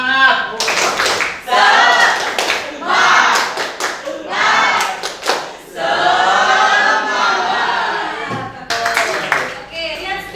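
Classroom students in an Indonesian chemistry lesson perform the tepuk semangat clapping chant: bursts of rhythmic group clapping mixed with loud chanted voices, pausing briefly between phrases and restarting, close and energetic.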